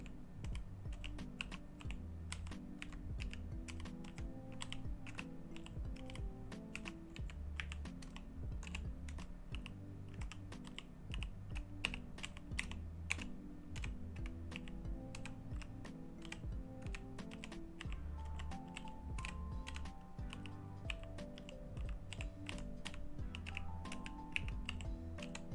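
Rapid, continuous typing on a computer keyboard in a Mars rover mechanic simulator game, with dense clicking keystrokes throughout, faint and close with no talk.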